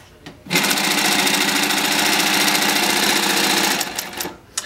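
An AtlasUSA AT8-B cylinder-bed industrial sewing machine with a servo motor runs at a fast, steady, loud rattle for about three seconds, then slows and stops with a few clicks.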